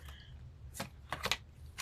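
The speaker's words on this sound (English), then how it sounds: "I just kind of shuffle them like this until one wants to come out." A deck of cards is shuffled by hand, with a few quick riffling bursts in succession over a low steady background hum, close and fairly soft.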